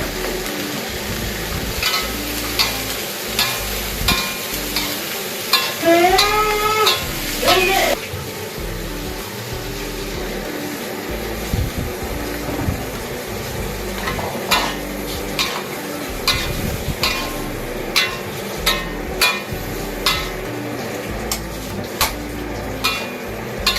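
Broccoli and prawns stir-fried in a pan, a steady sizzle broken by repeated scraping and clinking of a utensil against the pan, with a voice talking over it at times.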